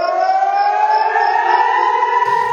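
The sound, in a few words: air raid siren in Eilat, Israel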